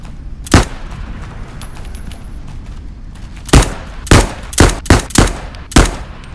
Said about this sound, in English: A few more shots to deal with that one